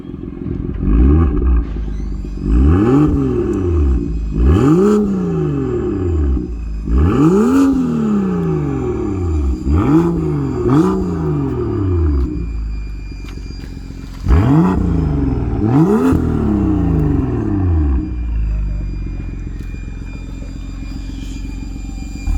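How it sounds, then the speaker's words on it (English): A BMW M2 engine revs hard again and again, its exhaust roaring up and dropping back in a series of loud, throaty bursts. "You get some exhaust sound there."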